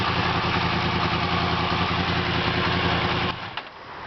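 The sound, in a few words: Yamaha FZ10 motorcycle engine revving with modified exhaust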